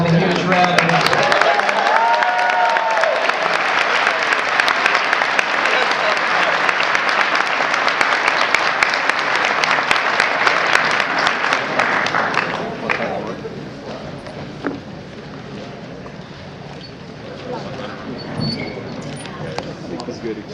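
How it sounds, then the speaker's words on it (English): Applause at a crossword puzzle tournament, a large crowd clapping loudly and densely for about twelve seconds before thinning and fading into quieter scattered claps and room noise, with some voices mixed in. "let's let everyone appreciate them now with a huge round of applause"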